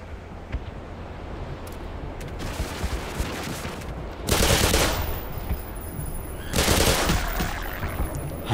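Black Mesa gunfire on a cliffside rattles in two loud automatic bursts over steady wind-like background noise, with scattered lighter shots before them. No voices.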